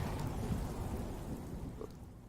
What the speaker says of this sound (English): Of course not, it's raining.